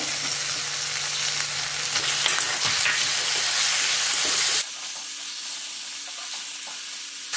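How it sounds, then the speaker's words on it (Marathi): Capsicum and tomatoes sizzle and crackle as they are stir-fried in a pan, a loud, bright frying hiss that drops abruptly partway through to a quieter, softer sizzle with a low hum. "हे पूर्ण एकजीव होईपर्यंत आपल्याला चांगलं एकजीव होईपर्यंत आपल्याला चांगलं परतून घ्यायचं आहे"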